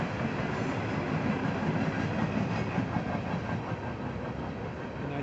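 A train rumbles past at a distance, a steady clattering roar with faint rhythmic clacking of wheels on track.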